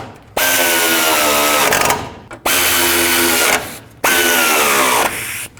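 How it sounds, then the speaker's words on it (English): A power tool, likely a drill or impact driver, runs down 10mm bolts on a 2002–06 Toyota Camry radiator support during a radiator fan replacement. Three loud, close whirring bursts rise and wind down, separated by short pauses, with no talk. "Start in your 4 little 10mm headed bolts."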